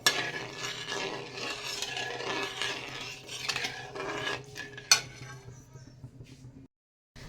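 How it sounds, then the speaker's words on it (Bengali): Semai payesh, vermicelli cooked in sweetened milk with sugar, is stirred in a pot, giving a steady scraping and swishing with faint clinks of the spoon against the metal before it stops abruptly into near silence. "এখন নাড়তে থাকবো যাতে দলা না পাকিয়ে যায়"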